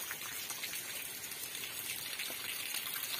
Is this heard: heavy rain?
yes